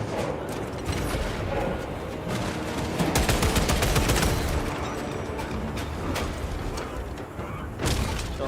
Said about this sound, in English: Munitions secured. Reloading weapon.